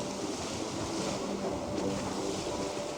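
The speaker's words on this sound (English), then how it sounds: "You can hear the bow and stern waves trucking away." Bow and stern waves of a boat cruising a long, straight channel in Alaska, a broad steady wash of water with wind noise, continuous and fairly loud throughout.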